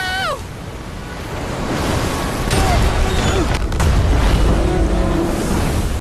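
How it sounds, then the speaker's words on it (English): Violent storm waves surge and crash as a ship is slammed into hidden rocks, a loud continuous roar of surf and wind with a deep booming impact partway through. "a massive wave slammed the vessel into hidden rocks"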